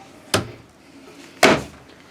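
An RV's inverter compartment door is opened, giving two sharp, close clunks about a second apart against a quiet background.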